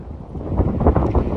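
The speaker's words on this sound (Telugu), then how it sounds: "గాలి వస్తుంది." Gusts of wind buffet the microphone in low, rumbling bursts near a dam at Lavasa, with no voices present.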